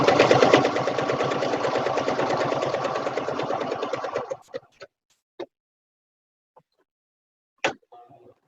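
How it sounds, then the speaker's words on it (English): Sewing machine back stitching through fabric while making a fabric tray, a rapid close mechanical chatter for about four seconds before stopping, followed by a few scattered clicks and handling taps. "now I did a little back stitch as I came around"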